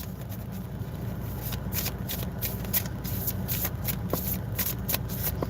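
A deck of cards is shuffled and handled up close, with steady riffling flutters and quick papery slaps running continuously with no talk.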